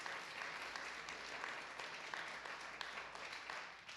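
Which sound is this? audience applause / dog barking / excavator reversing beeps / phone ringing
audience applause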